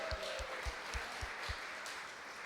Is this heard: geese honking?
no